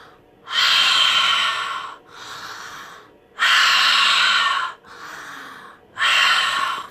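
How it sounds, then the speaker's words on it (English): Deep breathing exercise: three long, loud inhales or exhales alternate with softer breaths in a slow, steady rhythm, close and alone with no talking. "So you're breathing into the ball really, really deeply."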